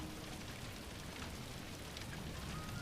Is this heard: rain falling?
yes